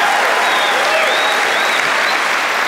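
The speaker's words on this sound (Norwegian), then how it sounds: "Det fortjener en liten applaus" A seated audience at a church youth gathering gives sustained, dense applause for a speaker's forty-year marriage, loud and steady throughout with no pause.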